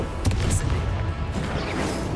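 A Confringo blasting spell explodes in the Hogwarts Legacy video game: a loud, sharp burst with a bright crackle near the start, followed by a rumbling low-end boom that carries on under sustained combat noise.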